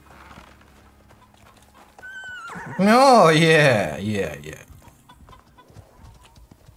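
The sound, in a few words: horse snorting and hooves in the video game Icarus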